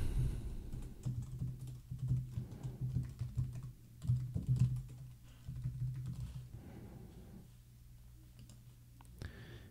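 Someone types on a computer keyboard to fill out an online checkout form, with steady bursts of quiet, close keystrokes and short pauses, and no one speaking.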